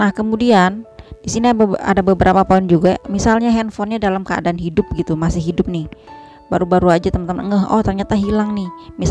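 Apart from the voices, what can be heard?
No everyday noise stands out behind the speech.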